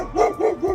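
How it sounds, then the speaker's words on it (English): Dog barking nearby in a garage or shop while a rusted fuel tank and its sending unit are being inspected, three quick loud barks in an even rhythm, with no talk over them. "you have to excuse my dog"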